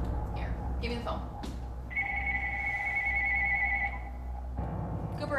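A house telephone rings with a bright electronic trill that sounds clearly for a couple of seconds between brief bits of talk.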